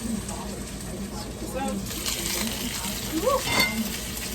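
Browned chicken pieces are dropped into a pot of water on the stove, giving a soft splash and a sizzling, bubbling hiss, with a light clink of utensils near the end.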